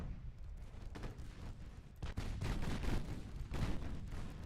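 Secondary naval guns in Ultimate Admiral Dreadnoughts fire at destroyers in repeated muffled booms and cracks, spaced irregularly over a continuous rumbling battle background.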